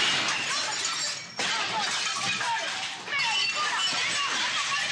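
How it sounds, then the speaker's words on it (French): A crystal perfume bottle slips and shatters on the floor of a ransacked perfumery, a loud glassy crash and scatter of fragments followed by further tinkling and debris sounds over several seconds. "a malencontreusement lâché le flacon qui se brise en 1000 morceaux"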